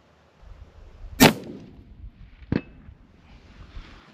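A hunting rifle fires at a target 350 yards downrange: one sharp, loud report, then a fainter crack or impact about a second later, over a quiet outdoor background.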